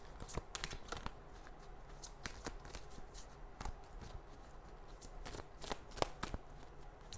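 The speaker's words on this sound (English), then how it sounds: "When I first started shuffling these cards, a couple of them flew out." Tarot cards being shuffled by hand in a quiet room, with repeated crisp riffling bursts and soft slaps at an uneven rhythm, close and fairly faint, with no talk.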